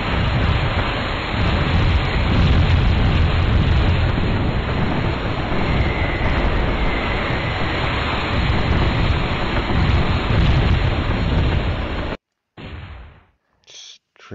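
Rockets in the Rail of War game, a loud sustained roaring rumble of firing and blasts, like a storm, that runs on before cutting out abruptly near the end.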